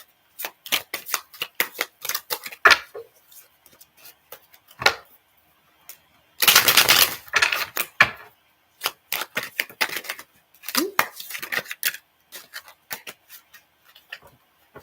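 Tarot cards riffle and snap in quick bursts of crisp papery flicks, with a longer dense shuffle in the middle and cards slapped down one by one for a reading, close and clear, with no talking.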